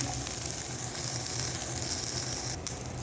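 Ginger and garlic sautéing in hot oil for a Chettinad beef gravy, a steady close sizzle with soft bubbling that holds evenly throughout with no talking.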